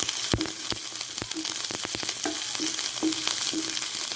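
Chopped onion and garlic sizzle steadily in hot oil in a pan, with sharp clicks and scrapes of stirring breaking through the continuous frying hiss; no one speaks.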